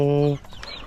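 A single short cluck from a chicken, close by, followed by faint rustling.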